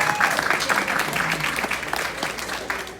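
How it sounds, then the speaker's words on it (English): A crowd applauds during a water demonstration event, continuous moderately loud clapping from many hands with some cheering mixed in, fading slightly toward the end. "Y'all give my brother a round of applause!"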